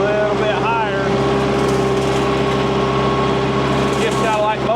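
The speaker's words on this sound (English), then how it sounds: "And just have our bush hog, or mower, whatever you want to call it." A tractor runs a Landhonor articulating brush cutter, a bush hog mower raised for cutting, its engine droning steadily and loud throughout, with a person talking over it.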